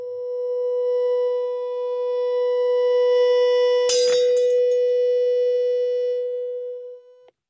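A loud, steady resonant tone is sustained at a glass to shatter it, holding one pitch alone before a sudden bright burst of breaking glass midway, then the tone carries on and cuts off.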